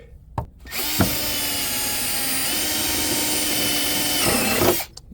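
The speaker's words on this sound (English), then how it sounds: "I'm just going to take a drill bit right here." A power drill whirs loudly and steadily for about four seconds, drilling a hole in a vehicle chassis, with a couple of sharp clicks before it spins up and winding down at the end.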